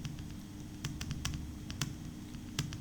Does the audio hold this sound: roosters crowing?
no